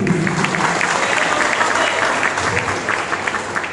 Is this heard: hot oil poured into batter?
no